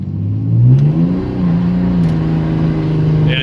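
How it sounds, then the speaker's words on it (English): A car engine at wide open throttle, a loud, close drone that climbs in pitch, dips at a shift and then holds steady. "Alright, I'll try to do a wide open throttle run here."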